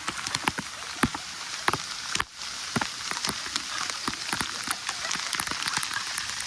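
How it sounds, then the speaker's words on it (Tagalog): Heavy typhoon rain pours down in the Philippines, a dense, even hiss of water striking surfaces, dotted with sharp, irregular drips and splats nearby. "Nasa raining na naman."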